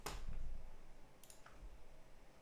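A computer mouse clicks once, sharp and close, with a second faint tick a moment later against a quiet room hiss.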